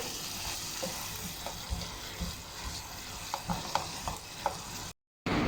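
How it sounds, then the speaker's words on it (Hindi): Chicken mince roasts in a pan over a medium flame, giving a soft continuous sizzle broken by occasional light scrapes and stirring clicks, close and fairly quiet, with no talking. "चार से 5 मिनट कीमे की अच्छी तरह बुनाई करेंगे मीडियम फ्लेम पे।"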